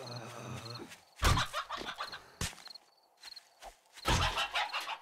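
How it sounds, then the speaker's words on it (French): A chicken clucks in the survival video game 7 Days to Die, with short clucks and squawks coming in bursts. Game ambience with footsteps or impacts plays between them. "Ah non, c'est une poule."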